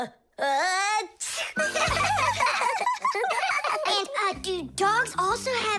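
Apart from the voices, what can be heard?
cartoon character sneezing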